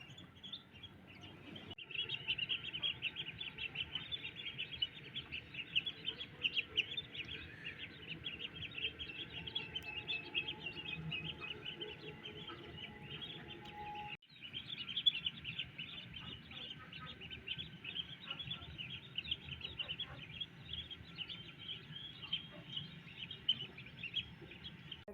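Steady high-pitched chirping and peeping from several ducklings, continuous and fairly close, with a soft background murmur throughout.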